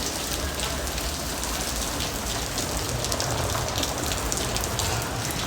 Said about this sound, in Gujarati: ભલે આવતો હવે વરસાદ